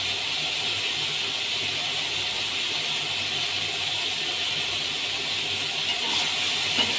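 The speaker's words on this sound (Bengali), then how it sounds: "কপিগুলো খুব সুন্দর করে ভাজতে হবে, খুব লাল লাল করে" Cauliflower pieces fry in hot oil with a little turmeric, giving a steady, loud, close sizzle that holds evenly throughout with no talking.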